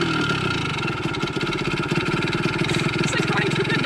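A 1974 Yamaha MX100 motorcycle engine runs after repair work, a steady close buzzing idle with small fluctuations in pace, while people talk faintly underneath.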